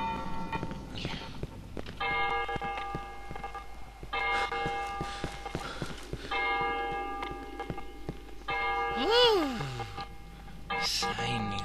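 Church bell tolling in the Cry of Fear horror game, sustained ringing tones struck in several spaced strokes, moderately loud, with a voice talking over parts of it.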